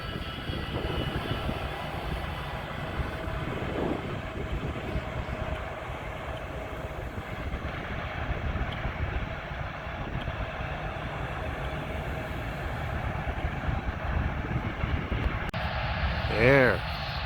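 A Boeing 787 airliner flies past near Montreal, giving a continuous low jet rumble that holds steady at moderate distance, with a brief whistle-like chirp near the end.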